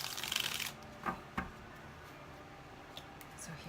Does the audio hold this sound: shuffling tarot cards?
yes